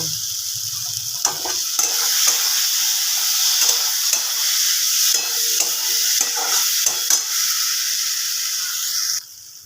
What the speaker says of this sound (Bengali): এর মধ্যে আমি আলুগুলো দিয়ে দেব বড়িগুলো কিন্তু এখন দেব না শুধু আলুগুলো দিয়ে দেব